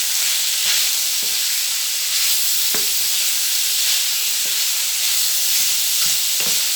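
Pork belly stir-fried with canned jackfruit in a hot pan makes a loud, dense hiss, with repeated scraping knocks of a utensil tossing the food at irregular intervals.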